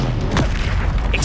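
A Confringo blast from the Hogwarts Legacy video game lands as a heavy, booming explosion with rumbling low end, loud and dense, trailing into crackling debris noise.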